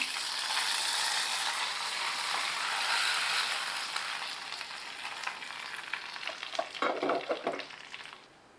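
Hot tempering is poured into a white pumpkin mor kulambu, setting off a loud, broad hiss that holds steady, then breaks into crackling, popping sputters before fading out.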